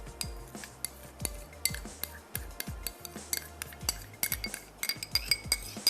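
A spoon clinks and scrapes against a bowl as ketchup, chili garlic sauce, soy sauce and yogurt are stirred together, giving a steady run of close, bright clinks and taps.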